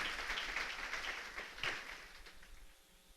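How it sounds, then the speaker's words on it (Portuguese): A church congregation applauding, a steady wash of many hands clapping at moderate distance, swelling briefly and then fading away toward the end with no speech over it. "Você pode aplaudir o nome do Eterno."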